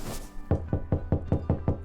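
Seven sharp knocks on a door in an audio drama, evenly spaced and close, following a brief soft sound.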